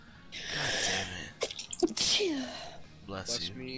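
A sharp sneeze bursts out mid-conversation during a Pokémon Scarlet and Violet multiplayer battle, followed by a short gasp-like breath, with excited people talking around it.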